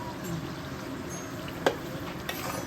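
A pan of chicken biryani sizzles softly and continuously after water is poured in and stirred, with one sharp metallic knock of a spoon partway through.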